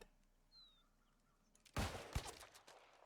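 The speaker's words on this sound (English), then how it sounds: "Testing first critical hit shot" A musket critical hit shot in the game New World, one sudden loud blast after near silence, followed by a rumbling tail and a second thump.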